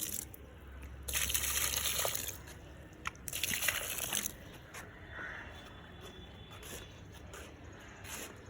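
Water is poured onto potted garden plants, including an allamanda, in two splashy gushes of about a second each, followed by softer trickling and dripping.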